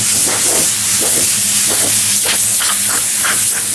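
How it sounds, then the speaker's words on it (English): Compressed air hisses steadily while blowing dust off a walnut and butternut tabletop during finishing, a continuous broadband rush with a few short louder bursts throughout. "So now we're going to blow this off again"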